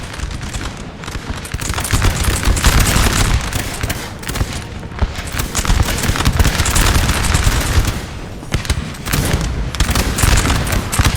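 Italian artillery in a Napoleonic-era battle in Napoleon Total War, a dense, continuous roar of cannon and musket fire with booms rolling over one another throughout, loud and sustained with brief dips.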